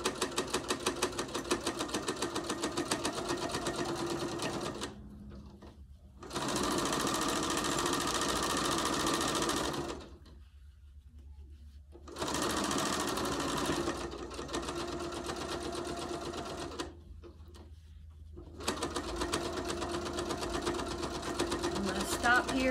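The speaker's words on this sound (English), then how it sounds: "I'm gonna sew down a quarter inch again." A sewing machine runs in several sustained bursts, stitching fabric for a hot pad a quarter inch from the edge, with short silent pauses between runs.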